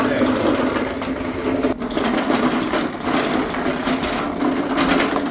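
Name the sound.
swapped engine running and vibrating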